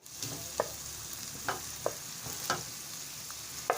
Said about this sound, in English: Just trying to fry it a little before adding the yam.